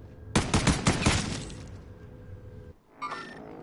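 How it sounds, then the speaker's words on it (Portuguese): Video game gunfire on PS4: a rapid burst of several loud shots early on, a fading rumble after, then a short metallic clink near the end, with no talk. "Esse aí, estão atirando."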